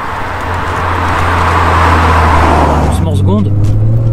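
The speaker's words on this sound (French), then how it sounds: "Bon bah écoute Louis, on n'a plus qu'à aller faire une petite accélération" A twin-turbo, twin-rotor Mazda RX-7 FD accelerates, its loud engine note swelling steadily before a quick shift-like change near the end, with someone speaking over it.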